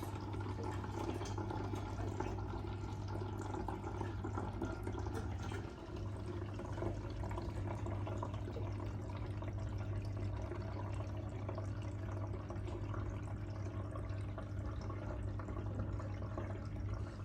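Steady running water from an aquarium tank being siphoned out during cleaning, a continuous close trickle and gurgle with a low hum underneath, constant throughout with no talking.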